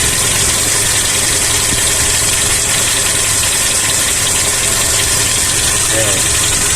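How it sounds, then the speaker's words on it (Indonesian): A Toyota Kijang Kapsul engine idles steadily with a persistent mechanical knocking tick in its noisy running tone, close by and loud, with a voice briefly heard over it. "di depan ini ada suara kletak-kletak,"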